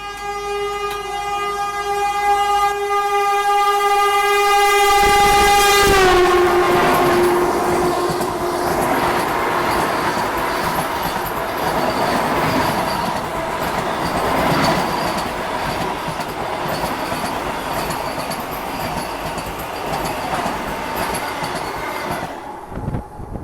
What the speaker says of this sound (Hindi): ये वंदे भारत को ओवरटेक करना था